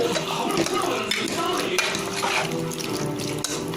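Water pours and splashes into a pot of village-style mutton curry with a steady rushing sound, close by, mixed with clinks of a utensil.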